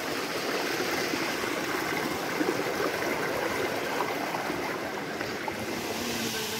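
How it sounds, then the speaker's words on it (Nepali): A river flowing at Baikuntha Taal in Madi, Chitwan, a continuous close rushing of water with broad, even hiss and churn that holds steady throughout, no voices. "नदी यसरी बग्छ"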